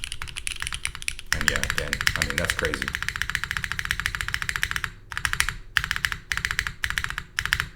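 Keystrokes on a mechanical keyboard with a PC plate, plateless sections and MX2A switches, a dense rapid clatter of close key presses broken by short pauses, with a voice talking over part of the typing.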